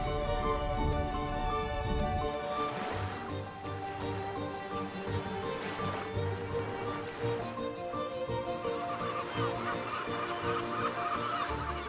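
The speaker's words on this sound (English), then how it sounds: "During summer, the cliff becomes a theatre of noise. Thousands of calls blend with the crashing of the sea against the rocks" A seabird colony on an Arctic sea cliff calls loudly and constantly, overlapping honking and squawking voices near and far, with a low wash of sea against the rocks beneath.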